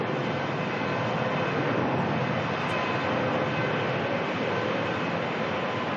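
A loud, steady jet engine roar fills the scene, a broad rushing rumble that holds constant as a Qantas airliner bound for Sydney powers down the runway at Melbourne Airport.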